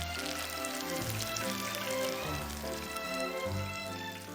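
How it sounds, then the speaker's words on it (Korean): Bite-sized pieces of gizzard shad deep-fry in hot oil, giving off a steady, dense sizzle and crackle that fills the whole stretch, with a low hum underneath and no one speaking. "이번에는 먹기 좋은 크기로 자른 전어를 튀기는데요."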